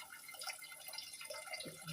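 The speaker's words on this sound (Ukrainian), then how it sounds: "Набираю цю ємність води і з неї переливаю" Water poured from a filled container into a household water filter, a soft continuous trickling and splashing that runs steadily at a moderate, close level with no talk.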